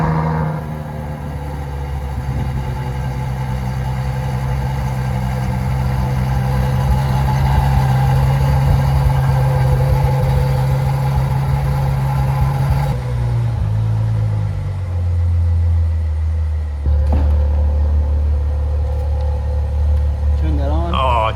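A wrecked Lamborghini Gallardo's engine runs at a steady rumbling idle, a deep continuous drone with a shift in pitch partway through, while people talk over it nearby.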